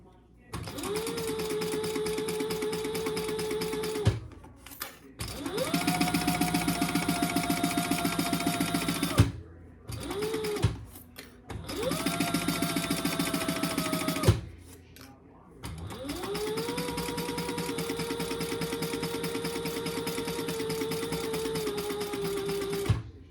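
Sewing machine stitching the inside seam of a laptop bag in four long, steady runs, each ramping up and stopping, with short quiet gaps and brief bursts between them.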